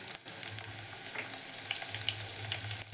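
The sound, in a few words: curry leaves, garlic and green chillies frying in hot oil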